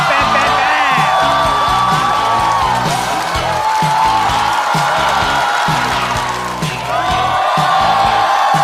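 Studio audience at a Chinese stand-up comedy competition cheers and applauds as a comedian is welcomed onstage, a dense, loud, steady crowd roar with whoops and shouts that swells and dips, while music plays underneath.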